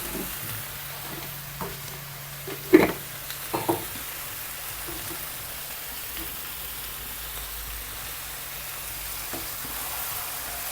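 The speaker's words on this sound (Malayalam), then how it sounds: "നല്ല മിക്സ് ചെയ്യാം" A ridge gourd and potato stir-fry with salt sizzling softly in a pan, a steady hiss with a few sharp spatula knocks and scrapes near the middle.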